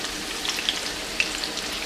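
A whole onion frying in a pan alongside hamburger patties, a steady close hiss and sizzle with a few small pops and crackles throughout.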